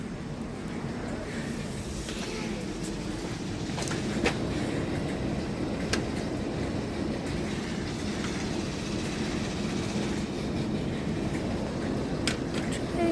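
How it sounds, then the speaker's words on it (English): A train rolling across a railway bridge in woodland, a long steady rumble with rhythmic clickety-clack of wheels on rail joints and occasional sharp metallic ticks, heard from close by throughout. "Trains."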